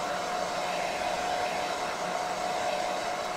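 A hair dryer blows steadily on a wet watercolor painting of cattails, giving a loud, continuous, even whir with a faint steady tone and no talking.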